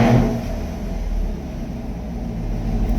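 A 2020 Chevy Camaro SS V8 with about 2,700 miles on it idles right after a cold start, giving a loud, steady low rumble with a brief surge at the very beginning.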